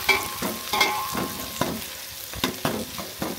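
Onions frying in a pan for beef curry, with a soft continuous sizzle and repeated scraping stir strokes at an irregular rhythm, close by, with no voices.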